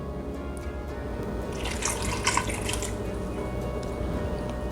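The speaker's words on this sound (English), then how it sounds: "I'm gonna add in a cup of water." A cup of water poured into an Instant Pot over peeled, chopped russet potatoes, a soft splashing trickle that swells briefly midway over steady background hiss.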